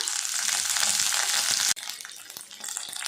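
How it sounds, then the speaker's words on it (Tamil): Bright crackling sizzle of mustard seeds spluttering in hot oil, steady at first, then cutting out abruptly before resuming with scattered pops. "கடுகு பொரிய ஆரம்பிச்சிருச்சு."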